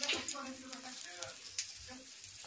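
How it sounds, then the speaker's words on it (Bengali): Egg-dipped pav frying in oil on a tawa gives off a quiet, crackly sizzle with small pops and a few soft utensil scrapes, close but low in level. "তারপরে তেলে দিয়ে দেবো তাওয়াতে"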